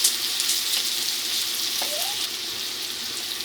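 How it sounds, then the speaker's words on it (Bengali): Chopped onion frying in oil over a low-to-medium flame, a steady bright crackling sizzle throughout with one brief utensil scrape midway. "এটাও লো টু মিডিয়াম ফ্লেমে রেখেই ভালোভাবে ভাজতে হবে, তাহলে পেঁয়াজটা ভিতর থেকেই ভাজবে"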